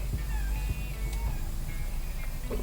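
A house cat meows nearby, several short cries over a steady outdoor background hum.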